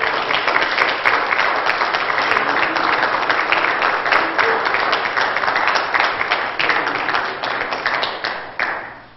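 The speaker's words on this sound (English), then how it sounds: "Give the Lord a good hand clap of praise and worship" Pentecostal church congregation giving a hearty hand clap of praise during an evening worship service, dense sustained clapping from many hands that fills the room and slowly tapers off near the end.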